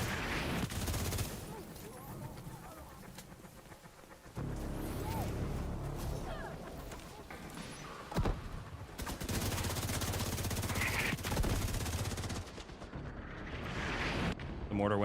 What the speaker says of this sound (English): The mortar went right onto me.